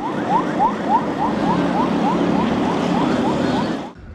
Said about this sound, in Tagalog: binasag ang katahimikan ng malakas na tunog ng sirena mula sa CCG vessel 5303